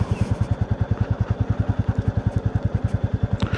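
A Royal Enfield Classic 350 motorcycle riding off-road, its single-cylinder engine thumping in a loud, steady, rapid pulse close by, with a brief clatter near the end.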